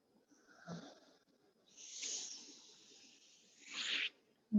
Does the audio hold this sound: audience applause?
no